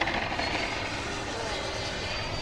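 Full-throttle pass by a Banana Hobby / HSD Hobby Super Viper RC plane, a steady loud electric ducted-fan whine holding for the whole clip with no break.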